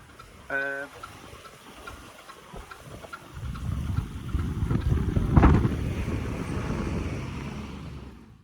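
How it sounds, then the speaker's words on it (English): An old narrowboat engine chugs steadily, swelling louder partway through amid gusty wind noise outdoors, with no one speaking. "Lovely to hear the old engine going, put put put put."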